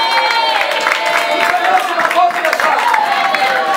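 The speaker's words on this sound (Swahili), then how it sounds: "Mpe Yesu makofi ya sana." Congregation applause for Jesus during a church service, a dense wash of many hands clapping with cheering voices mixed in, continuous and crowd-wide throughout.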